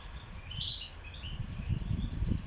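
Small birds chirp softly around a nest, one feeding the young, with faint high twittering over a low rumbling background of household noise.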